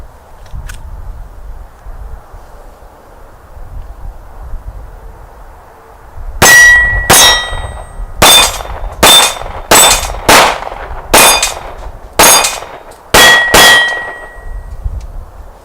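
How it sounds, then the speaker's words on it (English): Bullets from an FNX 9 pistol strike steel targets outdoors on a cold, blustery day in Iowa, ringing out in a fast series of about ten sharp metallic clangs with brief decaying tones after a windy lull. "The FNX 9 on steel."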